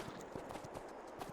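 Horse hooves in Farming Simulator 22 sound as a quick, steady run of soft thuds while a horse is ridden, quiet and muffled under a low background wash.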